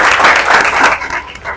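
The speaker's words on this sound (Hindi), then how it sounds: "ताली बजाओ इनके लिए" Close, loud burst of applause from a classroom audience clapping for a student, dense rapid claps fading within about a second and a half.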